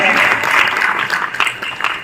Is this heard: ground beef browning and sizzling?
no